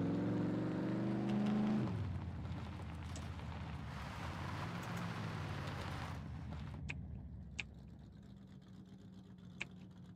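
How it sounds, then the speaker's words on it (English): A police vehicle's engine in the game SCUM rumbles steadily at close range, then shifts to a broader whooshing drone before dropping away to a quiet idle broken by a few sharp clicks, with no talking. "My police vehicle."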